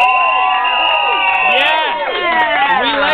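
Crowd cheering and whooping for a band at a live show, a loud, continuous wash of shouting voices filling the whole stretch.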